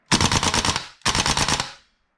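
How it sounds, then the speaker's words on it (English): Tokyo Marui AKM gas blowback airsoft rifle fires two rapid full-auto bursts, each just under a second long. The shots are loud, close, sharp and mechanical, with a brief gap between the bursts. "Let's put it on full auto. Mag dump this thing."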